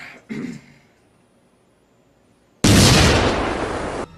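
A loud explosion from the horror film Child's Play bursts in suddenly and roars at full strength for about a second and a half, preceded by a brief muffled thump and near silence.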